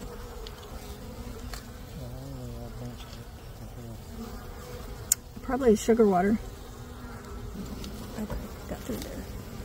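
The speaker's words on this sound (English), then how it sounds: "At least there's bees in here" Honey bees buzz in a quiet background at a beehive while someone speaks briefly, then one bee drones loudly close by for about a second before fading.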